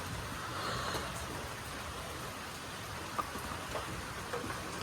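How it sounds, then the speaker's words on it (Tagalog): Steady soft patter of light rain, an even wash of drops with no voices. "Pero hindi naman malakas yung ulan."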